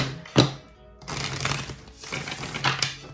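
Tarot cards being shuffled up close, a sharp riffle followed by a longer run of papery flicking and rustling.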